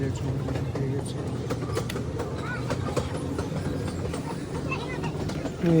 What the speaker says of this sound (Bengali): এই যে দেখুন ট্রেনটা কত লম্বা